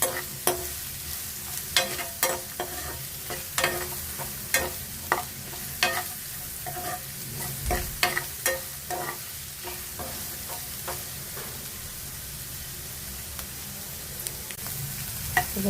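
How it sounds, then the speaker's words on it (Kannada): Masala for homemade masala puri fries in a pan under a constant sizzle, punctuated by regular spatula taps and scrapes that continue steadily throughout, close and without speech. "ಸ್ವಲ್ಪ ಫ್ರೈ ಆಗಲಿ ಇದು."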